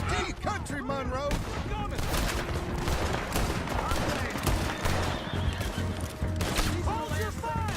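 Gunfire in Red Dead Redemption 2 rattles in rapid bursts and volleys among horses neighing and hooves clattering, while voices shout over the dense, loud chaos.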